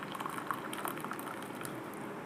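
A low, continuous bubbling and simmering of masala tea heating in a pan, soft and steady with faint crackles.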